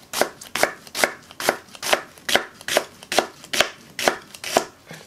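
A knife chops an onion on a cutting board into small pieces. About eleven crisp, evenly spaced strokes sound close up, with no talking.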